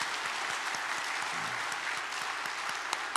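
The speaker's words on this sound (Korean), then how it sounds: "뜨겁게 박수해 드리겠습니다." A church congregation gives warm, sustained applause to welcome new members, dense steady clapping from many hands filling the room throughout.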